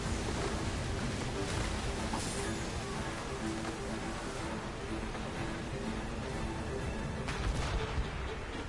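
Ship cannons firing during a naval battle in the video game Assassin's Creed Rogue, with repeated booming blasts over a dense, noisy roar of sea and wind at fairly low volume.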